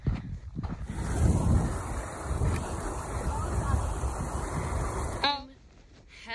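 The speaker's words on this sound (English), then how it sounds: "It's windy and cold." Cold wind on the Pacific Crest Trail roaring and buffeting against the microphone in surging gusts, loud and close, easing near the end, with faint voices underneath.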